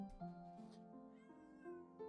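A cat meows several times in quick succession, soft and fairly close, with no voices.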